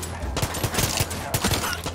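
A flashbang grenade goes off in the video game Far Cry 6, a loud burst followed by a dense ringing, crackling wash with further sharp hits, no voices.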